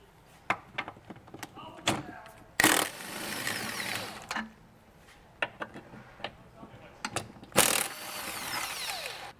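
Tow hook attachments being unbolted from the frame rails of a 2014 Lexus: repeated ratchet clicks and metallic clanks come in short bursts, with two louder, longer rattling spells, all up close and without any talking.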